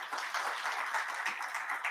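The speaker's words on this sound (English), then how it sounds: "So I think there's a round of applause for yourselves." An audience at a new members and high achievers ceremony claps in a steady, dense round of applause, continuous throughout with no voices rising above it.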